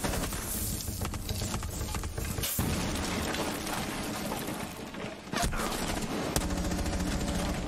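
Gunfire in Rainbow Six Siege: dense, loud rapid shots and bursts filling the whole stretch, with a brief dip and crash midway before firing resumes.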